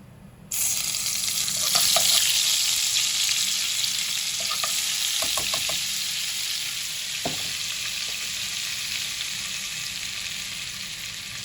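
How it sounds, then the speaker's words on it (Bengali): Butter sizzles in hot oil left from frying paneer for dhaba-style palak paneer, a steady loud hiss that jumps up at the start and holds, with a few light clinks of a spatula against the pan. "ওই তেলের মধ্যে এবার আরেকটু বাটার দিয়ে দিলাম।"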